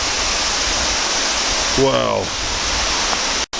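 A waterfall in the mountains near Fukuoka, Japan roars as a loud, steady, close wash of rushing water, and a person briefly exclaims partway through.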